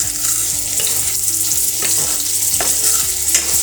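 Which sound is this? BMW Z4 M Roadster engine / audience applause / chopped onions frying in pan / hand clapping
chopped onions frying in pan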